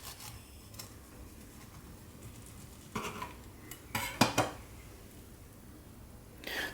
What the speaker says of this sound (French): Alors on va la couper en deux pour voir comment ça se passe à l'intérieur